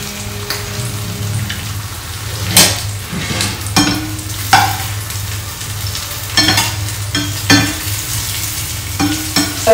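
Zucchini pieces fry in a hot pan with steady sizzling, broken by repeated sharp clatters and stirring scrapes of a utensil, close and fairly loud, with no talking.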